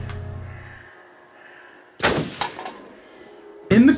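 Loaded rifle firing at a gun gallery in Until Dawn, two sharp loud gunshots about two seconds apart, each with a short echoing tail, over a quiet game background.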